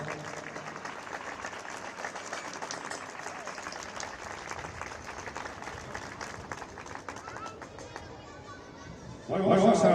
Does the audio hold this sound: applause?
yes